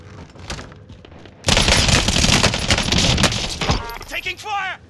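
Call of Duty Warzone match: a sudden, dense burst of rapid automatic gunfire lasting a couple of seconds, loud and close, followed by scattered shots and game effects, with voices talking over it.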